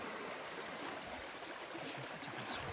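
A fast creek swollen after rain rushes in a steady, dense wash of water, close and continuous with no pauses or voices.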